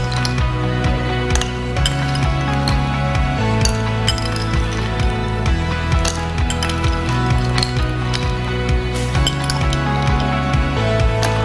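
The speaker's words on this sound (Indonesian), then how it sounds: "Kemudian kita tambahin es batu." Ice cubes clink and rattle against a glass as they are spooned into a juice drink, a busy run of bright, close clinks and knocks continuing throughout with no voices.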